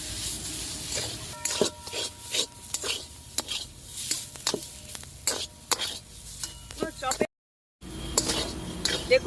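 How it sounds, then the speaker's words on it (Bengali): Egg cutlet masala stirred in a pan with tamarind-tomato sauce: a series of close metallic spoon scrapes and clinks over a low sizzle, with a brief dropout near the end. "এবার এটাকে ভালো করে আমি নাড়িয়ে কষিয়ে নেবো"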